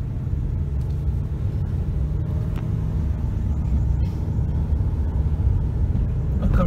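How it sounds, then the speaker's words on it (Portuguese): A truck comes along a steep, sharply curving mountain road, a continuous heavy low rumble from the vehicle's interior with steady loudness throughout. "Olha o caminhão vindo, né?"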